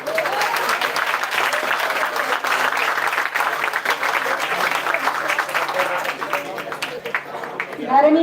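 Students at an annual engineering college convocation give a steady round of applause from a large hall crowd, dense continuous clapping lasting about eight seconds with no talk.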